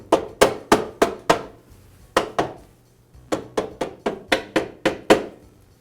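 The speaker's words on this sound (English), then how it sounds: "use a mallet to help me tap the baffle into place" A mallet taps a metal baffle into place on a Husqvarna lawn mower deck, sharply in two quick bursts of repeated strikes, close and loud, with a short pause between the groups.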